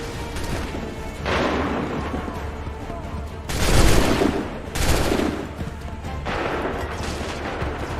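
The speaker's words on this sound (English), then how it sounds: "Wait for the signal. Make ready. Shoot!" Musket volleys fire in Assassin's Creed III on PC, sounding as several loud crackling bursts of massed gunfire separated by quieter stretches, with shouted commands in between.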